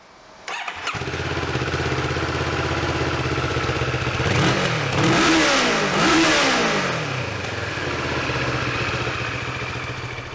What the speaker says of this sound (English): have a listen to it with this exhaust on